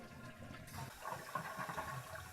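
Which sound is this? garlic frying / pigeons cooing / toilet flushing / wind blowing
toilet flushing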